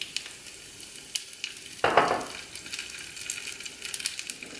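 Dried chilies fry in oil for a tamarind ginger pickle, producing a crackling sizzle with sharp pops and a louder burst of spattering midway, close up and without talk.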